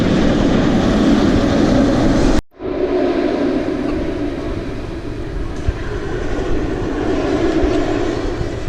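A Bolliger & Mabillard inverted roller coaster at Six Flags Over Texas roars past loudly and steadily, cuts off abruptly for a moment, then continues as a sustained rumble with no talk.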